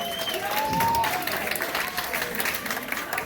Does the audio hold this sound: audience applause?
yes